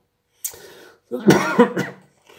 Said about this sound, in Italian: scusate il colpettino di tosse